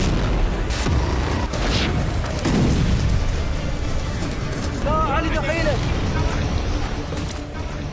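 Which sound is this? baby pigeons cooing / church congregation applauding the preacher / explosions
explosions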